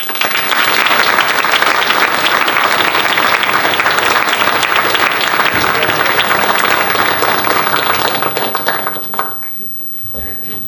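An audience applauding to welcome a speaker at a talk, dense sustained clapping filling the room for about nine seconds before fading into quieter room sound.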